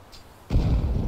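A grenade in Counter-Strike detonates with one loud, sudden boom halfway through, its heavy rumble lingering to the end after a quiet lead-in, on the Inferno map.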